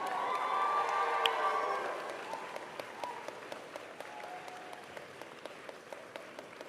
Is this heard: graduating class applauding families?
yes